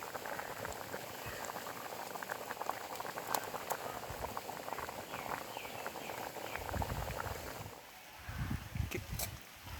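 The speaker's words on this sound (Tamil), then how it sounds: "ஓகே, இப்போ நல்லா கொதிச்சு வந்துருச்சு." Bengal gram dal gravy comes to a steady rolling boil in a pot, with dense continuous bubbling and popping that holds close and even throughout, then a few louder bursts near the end.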